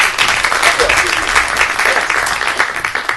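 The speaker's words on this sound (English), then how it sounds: "Big round of applause for this gentleman." An audience claps steadily and loudly, a dense, continuous round of applause from a crowd.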